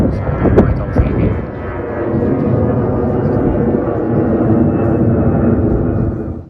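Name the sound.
airplane flying overhead near an airport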